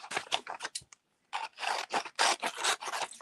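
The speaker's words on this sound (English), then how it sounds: "So yeah, where's my scissors?" Scissors snipping through copied sheet music paper during a craft session, several close rasping cuts in quick bursts with a brief pause midway.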